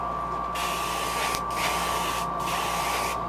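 An airbrush set to about 40 psi hisses steadily as it sprays a light green shimmer onto a 1.5 square bill crankbait fishing lure, with the broadband spray cutting out briefly twice between bursts over a faint mechanical hum.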